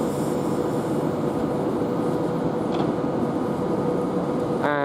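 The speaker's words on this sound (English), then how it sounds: "we've got a London Euston now departing here" A London Euston-bound train departs Milton Keynes Central station, producing a loud, continuous rumbling roar up close, with a brief horn-like tone at the very end.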